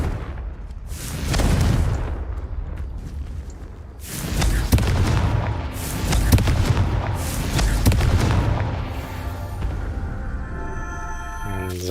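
Confringo fire spell being cast to light cauldrons in Hogwarts Legacy: a series of heavy booming whooshes and blasts that swell and fade over a rumbling game soundtrack, ending in a rising magical shimmer.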